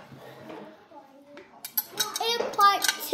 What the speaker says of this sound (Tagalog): Kaya naman yung asawa ko ay naguhugas ng pinggan.